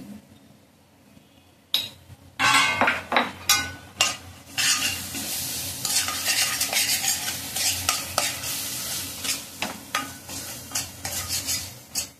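Kokum amti (kata chi amti) cooks in a pot, with a spoon stirring in repeated scraping, clinking strokes over a steady sizzle, loud and close.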